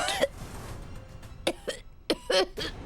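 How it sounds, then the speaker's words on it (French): An elderly woman coughs in several short, harsh bursts, some in quick pairs, separated by brief pauses. "c'est ma grand-mère qui tousse"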